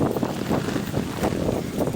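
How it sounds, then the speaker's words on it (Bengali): Gusty wind blows during a rainy walk outdoors, a dense rushing roar buffeting the microphone in steady pulses with no voices. "বাতাস বাতাস"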